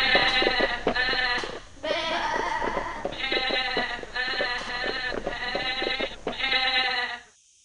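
Goats bleat in a rocky valley as they leap from stone to stone, a series of six or seven loud, quavering calls close by in quick succession with short gaps, ending abruptly in silence.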